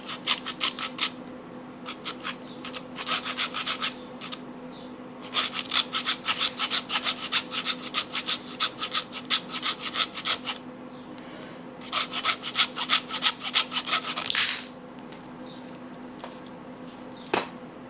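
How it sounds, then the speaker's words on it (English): A small handsaw cuts through a plastic clothes hanger in quick, close back-and-forth strokes, coming in several bursts separated by short pauses, with a faint steady hum underneath and no talking. "I'm going to saw it to take it out."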